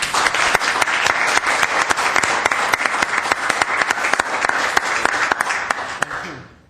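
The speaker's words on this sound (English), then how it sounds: "And I'd like to have a round of applause for them." A small group applauds staff at a city housing authority meeting, with distinct individual claps in an uneven rhythm over a steady patter, fairly close, before tapering off at the end.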